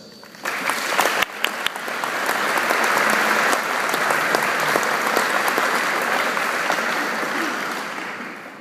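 An audience at a Hall of Fame ceremony applauds as Stephanie Silk is welcomed, a sustained wash of clapping that swells quickly after a few early claps and holds full for several seconds before easing slightly.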